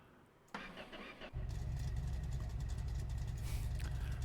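A pickup-style truck engine in the My Garage video game cranks briefly and then catches, settling into a steady, loud, rumbling idle that carries on alone.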